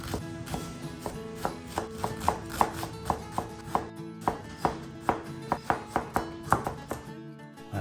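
Thin slices cut through a banana blossom with a knife on a board, a steady run of about two dozen crisp chopping taps at an even rhythm, close and clear.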